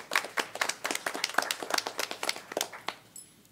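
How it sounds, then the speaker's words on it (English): Scattered clapping at a transit authority board meeting, a handful of people striking hands in a loose, uneven rhythm of sharp distinct claps that thins out and stops after a few seconds. "I don't know if that merited applause"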